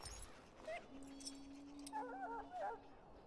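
A sick dog in the video game Dragon Age Origins whimpers in short, high whines and yips, with a longer steady whine in the middle, over a low background hum.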